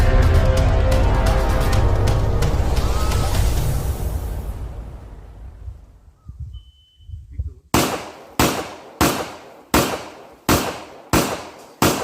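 A Sig Sauer P320 X Five Legion pistol fires about nine sharp, evenly spaced shots in quick succession after a loud wash of noise fades into near silence.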